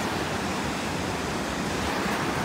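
Loud, steady broadband rush of river water in the mountains near Jibhi, continuous and close, with no talk over it.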